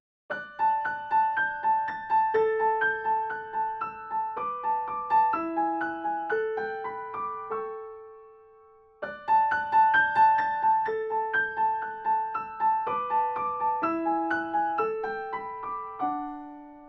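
Solo piano plays the Ode to Joy theme, a gentle classical melody in steady single notes over a soft accompaniment, pausing briefly before repeating the phrase, with no voices.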